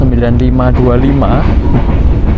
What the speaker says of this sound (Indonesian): Jadi ini tuh serasa naik kereta api Bima beneran zaman dulu.